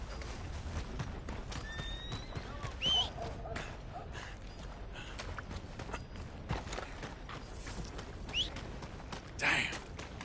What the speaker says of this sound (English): Where's that horse gone to?